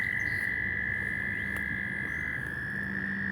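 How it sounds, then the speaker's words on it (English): Frogs croaking in a dense, continuous chorus outdoors in the wilderness, with a steady high cricket trill running through the whole stretch. "we're listening to frogs, and crickets, and birds, and nature here"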